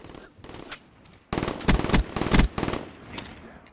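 Rapid automatic gunfire in a multiplayer video game match, loud bursts of shots from about a second in, with quieter shots before and a few fading bursts after.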